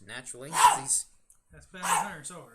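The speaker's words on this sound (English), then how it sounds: "That was my dog Jasper testifying as to how good the comic is with his barking" Jasper, a pet dog, barks in two short bursts separated by a pause, mixed in with a person talking nearby.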